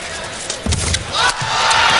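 A crowd at the 2009 World Badminton Championships men's doubles final in Hyderabad, India, roaring loudly and continuously, with a few heavy thumps and stamps breaking through the steady wall of cheering.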